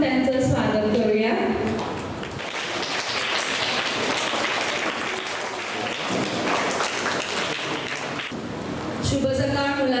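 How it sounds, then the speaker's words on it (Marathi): An audience at a school Marathi language day event claps steadily for about ten seconds to welcome the headmaster, with speech before and after the clapping. "आपण टाळ्या वाजवून त्यांचं स्वागत करूया."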